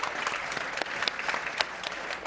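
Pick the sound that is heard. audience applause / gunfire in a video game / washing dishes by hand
audience applause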